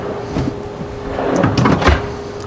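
Wooden nail drawers in a shop cabinet slide open and shut, giving a couple of close, scraping rumbles and a soft knock against a low background hum.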